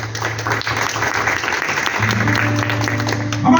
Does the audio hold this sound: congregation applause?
yes